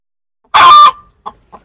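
A desi hen sitting to lay an egg on a poultry farm in Pakistan lets out a loud, close squawking cluck followed by two short soft clucks, with silence around them.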